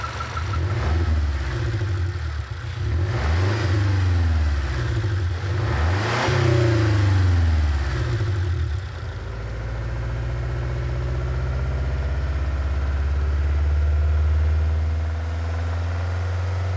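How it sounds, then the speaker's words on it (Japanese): A Subaru horizontally opposed boxer engine is blipped in several quick revving surges, each one rising and falling. It then settles into a steady, low, throbbing idle. The sound is close, with no speech. "スバルの水平対向エンジンから聞こえてくる音は、"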